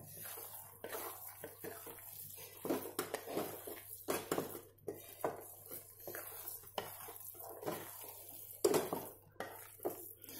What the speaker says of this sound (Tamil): இப்ப இத வந்து நாம அப்பப்ப கிண்டி விடணும்.